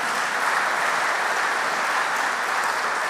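Sustained, dense applause from a large audience at a hospital rally in Dunedin Town Hall, an even roar of clapping with no break and no speech over it.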